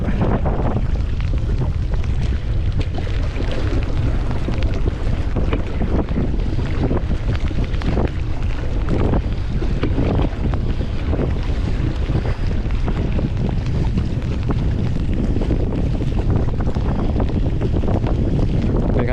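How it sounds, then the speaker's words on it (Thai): Strong wind buffets the microphone at a reservoir while a Big Fish 105 pedal kayak is paddled through choppy waves, a loud, constant roar of gusts and splashing with no talk. "นี่ก็เป็นบรรยากาศขึ้นลมอ่างเก็บน้ำนะครับ"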